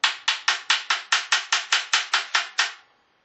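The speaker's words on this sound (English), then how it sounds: "loosen off the nut so it's all nice and loose, and then tap the end of it" Thirteen sharp, evenly spaced metallic taps strike the end of a loosened locking guitar machine-head post, close and bright, each with a short ringing decay, before the sequence stops and silence follows.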